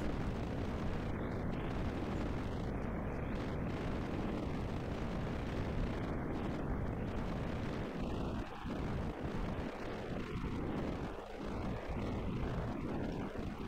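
A rocket in Kerbal Space Program crashes and explodes, leaving a long, dense rumbling roar that holds steady and loud throughout, with a few deeper thuds rising through it.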